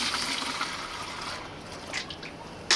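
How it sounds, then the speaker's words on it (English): Worm tea from a worm farm pouring into a watering can, a steady liquid rush with splashy trickling that stays fairly constant and ends in a brief louder splash. "pour a little bit into a watering can here."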